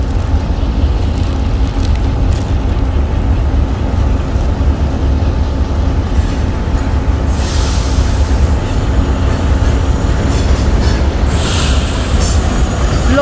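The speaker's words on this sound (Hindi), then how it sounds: "लोकोमोटिव है जी" A Pakistani passenger train with PHA 20 AC locomotive rolls past at close range, a steady loud rumble of wheels and carriages with continuous rail noise and faint squealing throughout, no talking.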